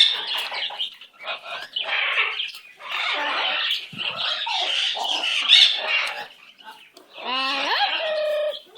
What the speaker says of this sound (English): That's my pretty bird.